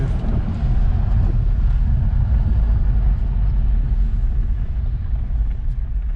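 An Acura TL spinning its wheels on a dirt road with traction control active, a continuous loud low rumble of engine and tyres with wind buffeting the microphone throughout.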